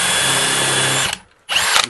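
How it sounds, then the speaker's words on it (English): Power drill with a countersink bit boring a divot during a Delta bathtub installation, a loud, close, high-pitched whine that stops briefly and then starts up again. "Basically, it's a bit that makes a kind of divot like this."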